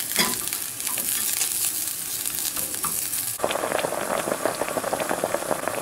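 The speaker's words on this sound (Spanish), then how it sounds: "Esto hierve no más de 2 minutos para que no pierda su aroma" Orange marmalade mixture made with thick-skinned oranges boils in a pot, giving steady bubbling and sizzling that grows busier and louder partway through, with no voices.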